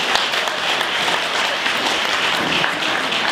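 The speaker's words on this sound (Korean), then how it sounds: "고생한 신랑 김상훈에게 다시 한번 큰 박수 부탁드리겠습니다" Wedding guests applauding the groom, sustained loud clapping from a crowd in a hall, continuous and even throughout with no voices on top.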